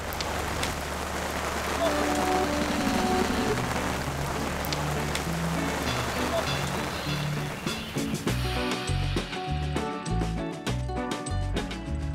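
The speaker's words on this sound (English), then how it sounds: "bit of rain coming in" Rain sets in over an outdoor pond-building site with stone causeway work under shelters, a steady close hiss of falling drops on surfaces, growing more patchy and pattering toward the end.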